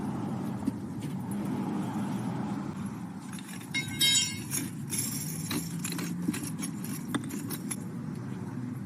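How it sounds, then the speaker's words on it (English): Metal couplings and hardware clink and rattle as a fire hose is uncoupled from a gated wye, with a cluster of sharp metallic taps in the middle over a steady low rumble of nearby apparatus. "We'll take the hose off."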